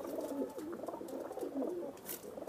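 Cooing of a spine-feathered (kante wala) pigeon from a collection of Dubwale and Kamagar breeds in Jammu, a soft, continuous rolling coo held close and steady throughout, with faint background noise and no talking.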